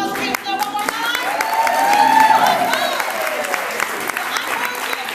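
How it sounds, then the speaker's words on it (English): Loud crowd applause fills the room at a hip hop open mic night, a dense steady wash of clapping and some cheering that swells midway and holds for several seconds. "give a loud round of applause for him one more time"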